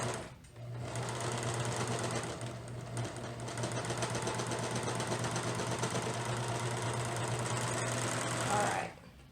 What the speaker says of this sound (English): I can tell my serger is not happy. It's making some loops